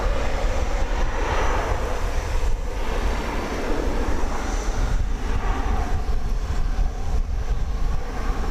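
An American Airlines jet taking off into the sky at Dallas Fort Worth airport at daybreak: a loud, close engine roar with rumbling low end and slight surges, continuous throughout with no talking.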